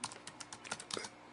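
Quick typing on a computer keyboard while entering Android code, with irregular soft key clicks close up at low level and no talk.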